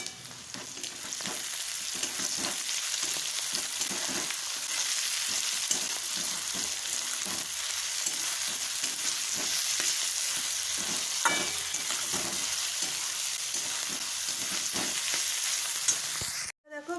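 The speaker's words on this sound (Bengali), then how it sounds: "দেখো ভাজা হয়ে এসছে" Leftover stale roti pieces and vegetables fry in a pan with a loud, continuous sizzle close up, a few soft stirring scrapes now and then, and no voices.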